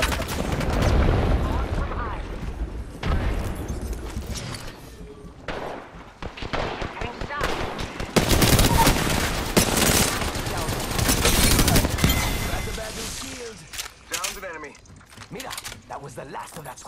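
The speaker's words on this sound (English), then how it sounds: "Shots fired, and they're hitting me." Sustained video-game gunfire, dense rapid bursts of automatic shots and loud volleys overlapping almost continuously, with brief lulls and a speaking voice underneath.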